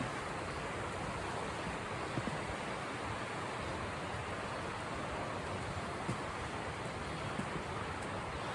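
A cold river flows beside a winter campsite on the Dosewalips, a steady, full rushing wash of water that stays constant throughout, with no voices.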